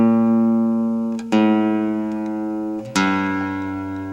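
Sustained piano-like chords from a live recording of a song, with a new chord struck about every one and a half seconds, each ringing out and decaying, played alone with no talking.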